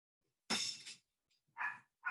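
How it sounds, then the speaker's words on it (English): Dogs barking in the back of a house, a few sharp, separate barks with gaps of silence between them. "Sorry, if you hear any dogs,"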